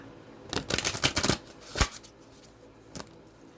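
Tarot cards being shuffled in a few quick riffling bursts, followed by a single soft snap of the deck, close up with no talking.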